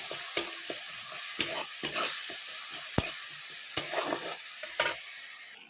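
Spiced vegetables with turmeric and salt, for a kakharu danka (pumpkin leaf) dish, are stirred in a pan, giving repeated scraping strokes and sharp spoon taps over a steady low sizzle, close and fairly quiet, with no voices.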